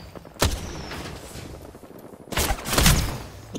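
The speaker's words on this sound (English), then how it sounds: "Opening fire." Gunfire in the video game Apex Legends, with two clusters of sharp shots, one brief burst early and a louder, longer volley later, over a low background of game noise.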